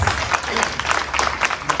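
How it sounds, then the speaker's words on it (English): Steady clapping from a crowd at a felicitation ceremony, dense and continuous at moderate loudness, with bursts of sharper claps rising out of the wash. "Please give Vasu sir a big applause"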